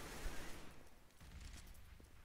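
Muffled bursts of gunfire rattle through a dense, noisy game soundscape, moderately loud at first and continuing more softly underneath.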